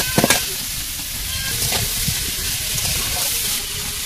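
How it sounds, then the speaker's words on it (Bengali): Beetroot frying in oil in a wok with kohlrabi, beans, potato, chopped onion, garlic and green chilli, giving a steady close sizzle with a few sharp pops near the start. "বিট ভাজাটা এবারে করবো, শুধু বিট না, এর সঙ্গে ওলকপি, শিম, আলু, এর মধ্যে পেঁয়াজ কুচি, রসুন কুচি আর কাঁচা লঙ্কা একবারে দিয়ে দিলাম।"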